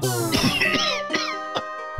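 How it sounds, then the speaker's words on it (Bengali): A king in an animated children's cartoon coughs: a strained, raspy voice breaks into a few short, harsh coughs, close by, with a groaning vocal sound at the start. "কথা বললে আপনার কাশি হচ্ছে"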